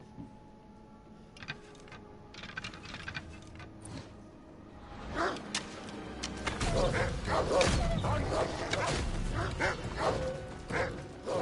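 Dogs in Assassin's Creed Odyssey bark, yip and whimper in short bursts, faint at first and growing louder and busier toward the end amid clicking game sounds.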